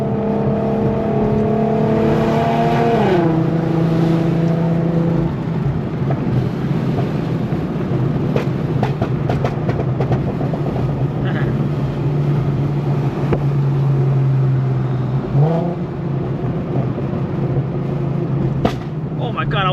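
Tuned Infiniti Q50 driving with a loud, droning exhaust that rises and falls through gear changes, with scattered sharp crackles and pops from the tuned exhaust, heard from inside the car with some voices.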